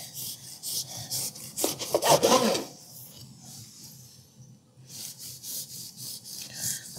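A knife slicing through a loaf of Pullman bread (pain de mie) into thick Texas toast slices, several rough sawing strokes in bursts with a pause between, close and fairly quiet.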